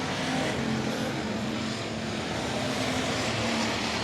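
Dirt track race cars roar steadily around the oval at Heart O' Texas Speedway during the Southern Nationals, a dense, continuous wash of engine noise with no distinct passes and no voices.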